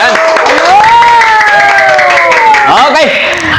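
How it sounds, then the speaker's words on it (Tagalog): An audience claps and cheers for a host at a gathering, dense applause that is loud throughout, while a voice talks and sings over the crowd. "Palakpak naman yan."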